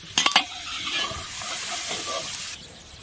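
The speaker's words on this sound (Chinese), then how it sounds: "煎蒜油里面倒入甲鱼，慢慢的把甲鱼煎一下" Soft-shell turtle pieces frying in hot garlic oil in a large iron pot, with a few sharp clattering stirs at the start giving way to a steady, close sizzling hiss that drops off near the end.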